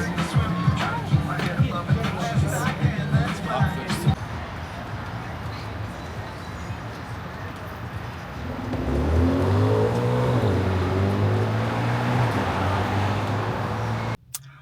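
Inside a car while driving, a low engine hum rises into a steady, louder drone with shifting pitch as the vehicle accelerates, after earlier bursts of talk and background noise.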